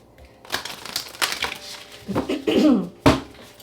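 Tarot cards being shuffled in a final shuffle during a reading, a series of sharp riffling and slapping bursts close up, with no talk.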